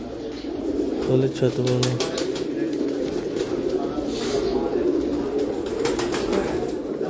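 Pigeon cooing mixed with bird calls around a rooftop loft of soft-feathered pet pigeons, steady low coos running under nearby talking voices throughout.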